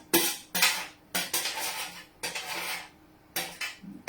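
Chopped vegetables are scraped off a board into a slow cooker in several quick, sharp bursts, with brief pauses between strokes and no talking.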